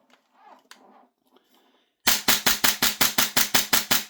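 A Novritsch SSQ4 HPA airsoft gun fires a rapid, evenly spaced string of about eleven loud, sharp cracks, close by, after a few seconds of quiet handling noise.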